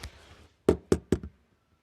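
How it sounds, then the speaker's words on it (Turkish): A pen drops onto a hard surface nearby and bounces in three quick, sharp knocks, each a little softer, before settling into quiet. "Kalem düştü."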